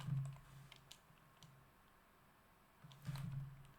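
Soft keyboard typing clicks in short irregular bursts, faint and close, over a low steady hum.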